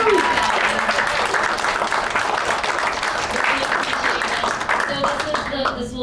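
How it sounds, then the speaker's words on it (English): A live audience applauds a climate justice advocacy panel, steady dense clapping filling the room with cheers and chatter mixed in, holding strong before thinning at the end. "give this amazing panel a round of applause"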